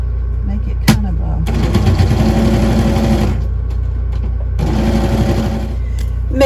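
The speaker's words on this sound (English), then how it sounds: "let me sew a stitch right across the bottom of this" A sewing machine stitches across the bottom of a handmade journal pocket in two loud, rapid mechanical runs separated by a pause, over a constant low hum, with a sharp click near the start.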